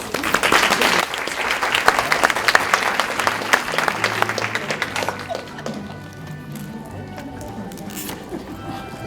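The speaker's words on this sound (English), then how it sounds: "Round of applause." Warm applause from a college audience at a Miami Dade College Kendall Campus service awards event, loud at first then tapering off after about five seconds, with a speaker's voice talking quietly underneath as clapping dies down.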